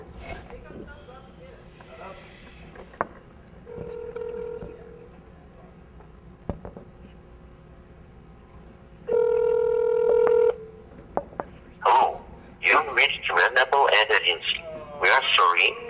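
Touch-tone telephone dialing during a prank call about a job, heard as several steady electronic keypad tones in short bursts over faint background noise, followed by a recorded answering-machine voice.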